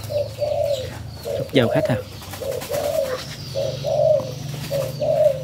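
A pair of caged birds calls in short, soft coos repeated at a steady rhythm, close by, while someone speaks briefly over them.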